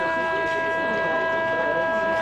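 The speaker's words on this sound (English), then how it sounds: "And there is the siren for quarter number one." A quarter-time siren at a women's Australian rules football match holds a steady, sustained wail with several tonal layers throughout, over distant crowd and ground noise.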